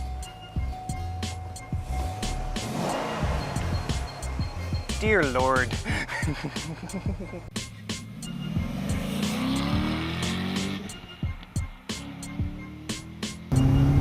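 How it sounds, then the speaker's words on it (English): A 2008 Corvette Z06 engine runs and drives with a steady, rumbling note throughout, and a voice speaks over it near the start. "Then you start the engine and you know you're in a race car."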